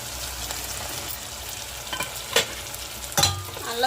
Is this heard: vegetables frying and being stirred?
yes